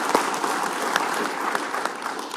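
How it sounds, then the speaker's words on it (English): An audience gives a round of applause to debaters and moderators at a public debate on net zero by 2050, steady clapping that holds evenly throughout without any speech over it. "Let's give another round of applause to our debaters and our moderators."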